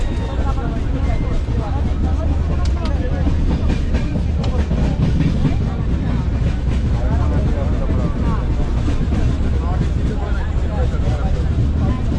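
Crowded Konkan Railway express train running, a loud constant rumble and rattle from inside the carriage with people talking over it.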